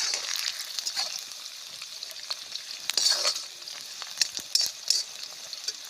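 Onions and whole coriander sizzle and crackle in hot oil for tempering on a village clay stove, with a few soft scrapes and clinks of stirring over the quiet frying hiss.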